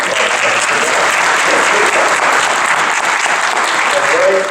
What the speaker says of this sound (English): Yeah, that's worth a round of applause.